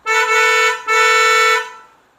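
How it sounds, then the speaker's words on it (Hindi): Two loud, close car horn blasts from a dual horn fitted to a Maruti Brezza ZXI, in quick succession, the second slightly longer, with a bright, layered dual-tone sound and no talking. "डुअल हॉर्न हमने इसके ऊपर लगाया"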